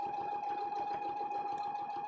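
A sewing machine stitches seams through thick layers of fabric, a steady, rapid mechanical chatter with an even whine, close and continuous throughout.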